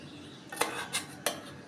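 Adding a vegetable to a cooking pan produces three sharp metallic clinks of utensil against pan, spaced about a third of a second apart over a low, quiet background.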